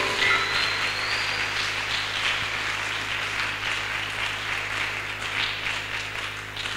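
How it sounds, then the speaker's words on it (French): A church congregation applauds loudly during a prayer service, the dense clapping holding steady for several seconds before easing slightly toward the end. "acclamons d'abord très fort"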